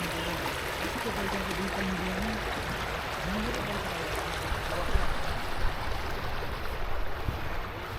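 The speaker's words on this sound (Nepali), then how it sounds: "खोला चाहिँ सही छ यहाँनिर।" A steady rush of stream water flows beside Soper Park in Cambridge, a continuous broadband wash close by with faint voices in the background.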